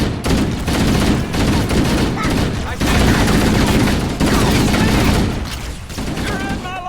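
Dense, loud gunfire from a firefight in Halo: Combat Evolved Anniversary, with overlapping rapid bursts and booms continuing throughout, briefly broken by short gaps, with faint voices mixed in.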